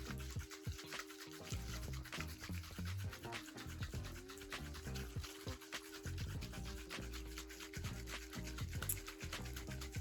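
A Bones bearing cleaning unit filled with bearing cleaner is shaken hard for about ten seconds, giving a continuous rattling, sloshing scrub of skateboard bearings knocking around inside the plastic container.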